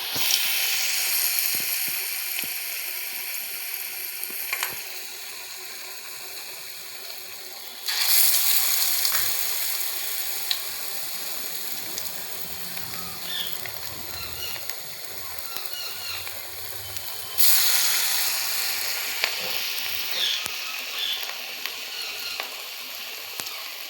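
Rohu fish pieces fry in hot oil with a continuous close crackling sizzle that surges louder twice as more pieces go in, then settles back to a steady bubbling hiss.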